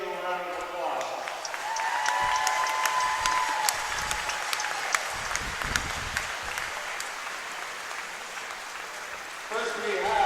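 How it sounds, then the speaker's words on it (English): An arena crowd applauds at the 2016 Canadian Founders Cup Junior B lacrosse championship ceremony. Continuous clapping and cheering swell and hold for several seconds, with an amplified announcer's voice briefly at the start and end. "Please give them a round of applause."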